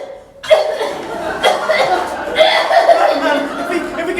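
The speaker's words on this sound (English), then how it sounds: "Listen to this cough." An actor's exaggerated, theatrical coughs in a school stage comedy of Chekhov's "A Defenseless Creature", several sharp bursts mixed with audience chuckling and laughter in a reverberant hall.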